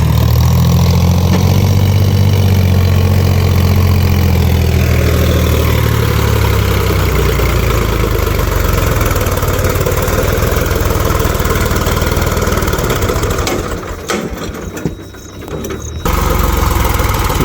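A loud tractor engine labours steadily under a heavy load of soil being loaded by a JCB 3DX backhoe loader, a deep, continuous rumble that dips briefly near the end before returning.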